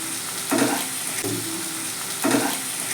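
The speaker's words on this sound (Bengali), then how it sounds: "এটা পোস্তটা একটু ভালো করে কষে নেব" Poppy seed paste with turmeric and salt fries in a pan under a constant loud sizzle, broken by three distinct scraping stirs of a spoon across the pan, close and clear.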